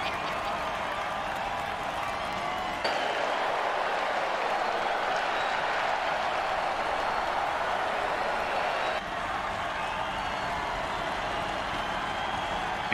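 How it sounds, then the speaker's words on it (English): Football game crowd roaring and applauding in a steady, dense wash of cheers and clapping that holds at an even level throughout. "Crowd's loving it."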